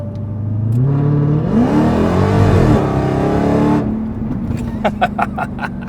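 A Dodge Challenger SRT Hellcat's engine revving hard, rising to a loud sustained roar, then dropping back to a burbling idle with a few sharp pops near the end.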